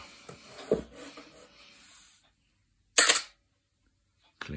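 A Canon A-1 35mm film SLR fires its shutter with a loud mechanical clack and a squeaky mirror slap, the fault known as Canon shutter squeal, preceded by quieter handling noises, with a short second click at the end.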